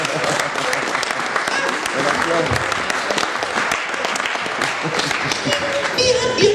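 Church congregation clapping steadily and densely throughout, with a voice speaking over the applause.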